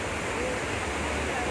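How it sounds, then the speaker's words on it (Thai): Rainwater gushing hard through Huai Sanaeng reservoir in Surin after a heavy downpour: a steady, loud, broadband roar of rushing water that stays constant throughout, with no break or change. "น้ำไหลทะลักแรงมาก"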